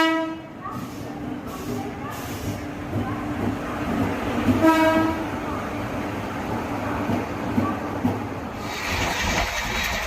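The Coromandel Express, running from Visakhapatnam to Santragachi, at a station: a loud rumbling train with wagon clatter and a horn blast near the middle, and faint voices underneath.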